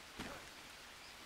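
Rain in the Green Hell jungle survival game falls as a faint, steady hiss of patter, with one slightly louder splash near the start.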